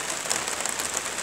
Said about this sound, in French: Et ben là on est sous la pluie. Ça arrête pas depuis ce matin